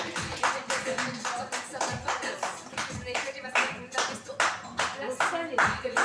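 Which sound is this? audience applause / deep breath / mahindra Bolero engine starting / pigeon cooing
audience applause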